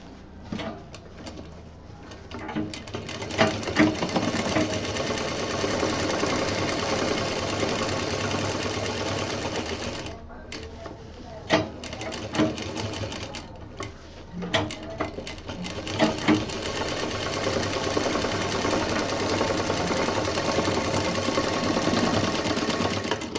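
A sewing machine stitches steadily around a round fabric shape for a DIY bag, its rapid mechanical whirr running nearly continuously with a few brief pauses and restarts.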